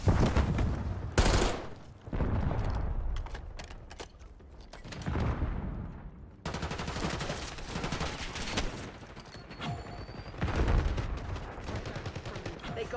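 Dense gunfire in a Call of Duty Black Ops 6 match: rapid bursts and single shots crackle loudly, with heavy booms and mechanical clatter, in waves across the whole stretch.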